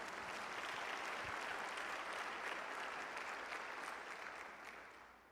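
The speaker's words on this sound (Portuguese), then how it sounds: "E se você puder, dá um aplauso ao Senhor Jesus." A church congregation applauds for Jesus, a dense wash of many hands clapping that holds steady and then begins to fade toward the end, with no talk over it.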